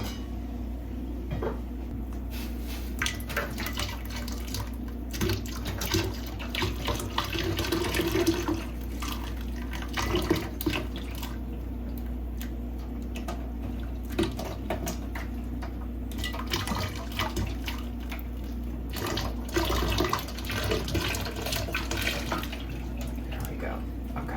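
Steady tap water runs and splashes while a Rainbow High doll's hair is readied for a hot-water dip, a continuous wash of noise at moderate level with faint knocks and handling around it.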